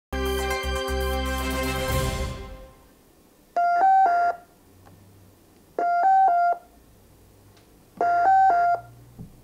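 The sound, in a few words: emergency alarm button signal sound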